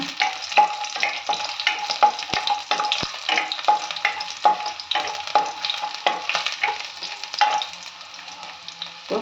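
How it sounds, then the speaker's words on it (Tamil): Garlic and radish sauté in a pan for radish chutney. A steady close sizzle runs throughout, dotted with the scrape and clack of a stirring utensil. "பூண்டு கொஞ்சம் வதங்கினதும் முள்ளங்கி போடுங்க"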